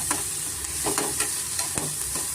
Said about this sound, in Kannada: ಸ್ವಲ್ಪ ನಾವು ಫ್ರೈ ಮಾಡ್ಕೊಳ್ಳೋಣ ತುಂಬ ಏನು ಫ್ರೈ ಮಾಡ್ಕೊಳ್ಳೋದೇನು ಅವಶ್ಯಕತೆ ಇಲ್ಲ